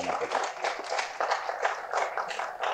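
Audience applause at a Tamil film teaser launch event, steady clapping from a crowd, fairly close and moderately loud, with no voices over it.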